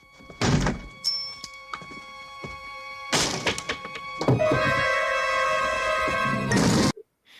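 Film scene of a fist punching through a door, with heavy wooden thumps and crashes, a sharp impact followed by a sustained splintering clatter and a final knock, loud and alone.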